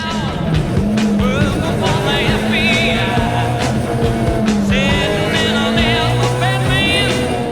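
A BMW M3 historic rally car on a mountain-road special stage in Corsica, its engine loud and close throughout, climbing and falling in pitch as it revs through gear changes.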